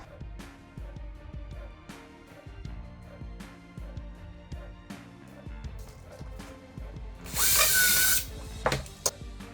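A power drill starts a hole into wood for mounting a Tesla Wall Connector Gen 3 EV charger, with short whirring bursts and clicks, then a louder sustained drilling run near the end, close by.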